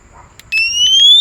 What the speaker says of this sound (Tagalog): Tapos ito yung alarm.